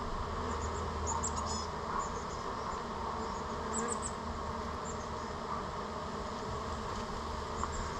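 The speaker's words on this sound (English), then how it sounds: "so I'm not in the flight path of the incoming bees coming back to the main hive here" Honeybees fly in and out near a hive during a swarm rescue, a dense, steady buzzing drone that holds evenly throughout, close and continuous with no voices.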